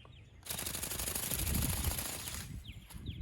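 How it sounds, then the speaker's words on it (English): A Hanvon R/C Go Go Bird toy flies with a loud, rapid fluttering rattle of beating wings that starts abruptly, runs steadily for about two seconds and then fades, with a few faint chirps near the end. "Let's send the go-go bird out."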